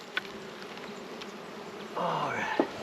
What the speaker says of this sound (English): there's so many bees on there